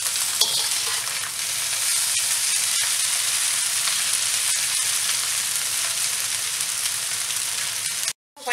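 Pad thai sizzles loudly in a pan as white sugar is stirred in, a dense continuous frying hiss broken by scraping stir strokes, ending in a sudden brief cutoff near the close.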